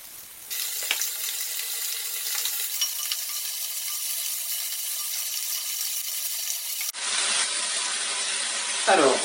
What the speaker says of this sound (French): On va se faire chauffer l'huile d'olive et on va faire dorer le lapin.